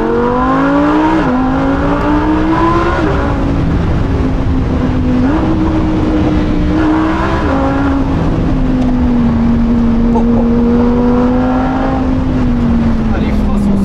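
Lamborghini Huracan EVO engine revving under full load, a loud, rising and falling high-pitched V10 wail that resonates off nearby walls, continuous from start to finish.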